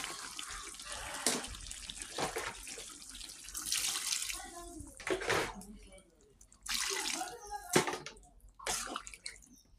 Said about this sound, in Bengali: এখন ঝোলের পানি দিয়ে দেবো।